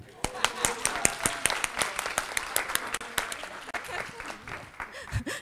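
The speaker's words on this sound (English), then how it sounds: "I think we need to give Anri an applause" Audience at a morning conference panel on countering online abuse against women giving applause, a scattered run of distinct hand claps that grows denser and then thins out, with voices audible near the end.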